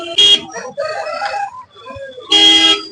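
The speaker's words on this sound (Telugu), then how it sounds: "అదే కోడి" A rooster crows in loud, close bursts, with a shrill opening call and a long final crow. Other fowl cluck softly and muffled voices are heard between the calls.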